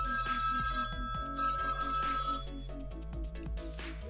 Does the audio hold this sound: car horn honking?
no